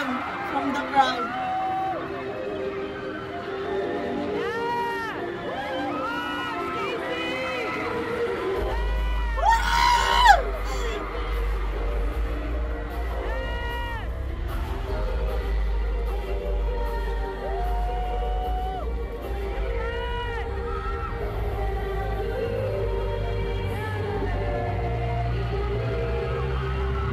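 A KCON LA 2024 crowd at a K-pop set screams and cheers in high, sustained waves, with a louder peak midway, while a music track's bass throbs beneath and voices chatter nearby.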